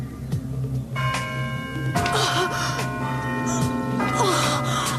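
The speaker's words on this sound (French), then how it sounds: "Arrêtez ces cloches, je vous en prie!" Bells ring out in overlapping tolls, resonant and sustained, while a voice gasps and whimpers underneath in distress.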